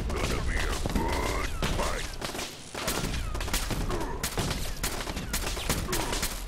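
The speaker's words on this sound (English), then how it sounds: "Mark 7 turret, huh?" Rapid bursts of automatic gunfire from a Mark 7 turret in the video game Fallout 4, dense and loud, with a voice talking over the shooting.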